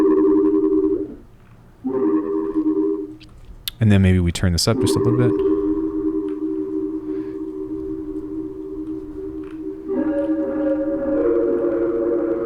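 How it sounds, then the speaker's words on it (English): Synth tones pass through a Bitwig 4.3 delay with a diffusion setting that builds reverb inside the repeats. Sustained notes ring out with smeared, wide echoes and a dense cluster of stuttering repeats in the middle, while someone talks over part of it. "we now have this diffusion kind of style option, to where you can kind of create reverb within the delay itself"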